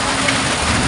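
Dense, steady broadband hiss of heavy rain pouring down close by, heard from under a shelter, with no voices.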